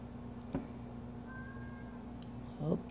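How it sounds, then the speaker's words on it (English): A cat meows at the door wanting to be let in, one short meow near the start and a longer, louder one at the end, over a steady low indoor hum. "Oh, kitty wants in."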